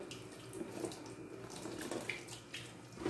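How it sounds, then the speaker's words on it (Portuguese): Kitchen tap water runs steadily into a sink while dishes are washed, a continuous close splashing with occasional clinks of plates against the basin. "Vou aproveitar aqui, já que eu tô aqui, lavar esses pratos."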